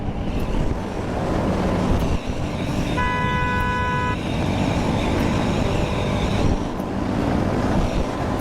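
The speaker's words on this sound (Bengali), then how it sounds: "ট্রেন আমাদের আগে যাচ্ছে" A train thunders past in a broad, steady roar close by, and its horn sounds one sustained, tonal blast for about a second midway through.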